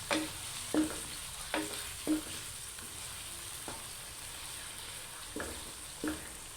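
Onions, tomatoes and chillies fry in a pan for a chicken kofta sauce, giving a steady low sizzle broken by about eight sharp knocks and scrapes of a spoon stirring. No one speaks.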